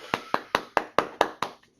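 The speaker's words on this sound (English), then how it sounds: "we would all stand and give you a round of applause, which we can still do when we're apart" Hand claps for a remote meeting's round of applause: seven sharp, evenly spaced claps in a steady rhythm, close and fairly loud, then they stop.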